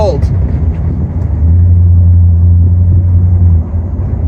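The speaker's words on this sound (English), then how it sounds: "A loud rev, sound of the alternator, drop it into gear." A 40-year-old rear-wheel-drive Oldsmobile Delta 88 Royale V8 sedan idles with a deep rumble, then a loud, steady low drone swells for about two seconds before settling back to idle.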